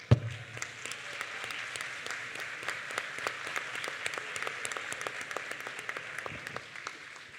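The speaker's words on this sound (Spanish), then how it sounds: "yo voy a pedir un aplauso por los maratonistas de esta mañana" At a legal lecture, the audience applauds the morning's marathon runners: a thinner, distinct patter of individual claps that stays steady for several seconds after a sharp opening thump.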